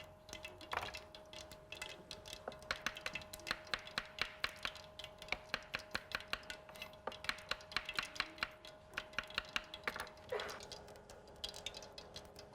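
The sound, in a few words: knife slicing small onions (shallots) on a board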